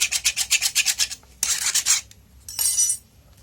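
A spoon scrapes the skin of a halibut in quick rhythmic strokes, a burst of about ten rasping scrapes followed by two longer drawn scrapes, close and clear with no talking.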